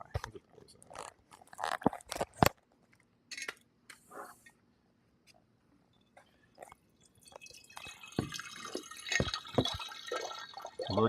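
Water poured with live shrimp out of a small container: scattered drips and light splashes with quiet gaps, building to a denser, busier stream of trickling and dribbling near the end.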